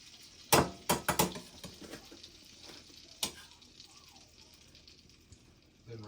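Flour-coated morel mushrooms with egg wash going into a skillet, with several sharp close sizzling bursts early on, another a few seconds later, then a quieter steady frying hiss.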